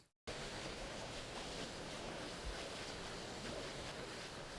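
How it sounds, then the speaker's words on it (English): Steady rushing of stream water mixed with wind through the trees at Padley Gorge, a continuous, even outdoor ambience with no clear bird calls standing out. "So we've got the background ambience of the water, some wind in the trees, birds."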